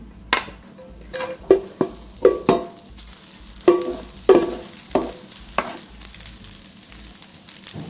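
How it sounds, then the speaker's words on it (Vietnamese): Rice tipped into hot oil in a pan for Vietnamese chicken fried rice sizzles steadily, with a series of sharp clattering stirs and scrapes spaced through the clip, close and moderately loud, with no talking. "Sau khi chảo nóng rồi mình sẽ cho cơm vào luôn."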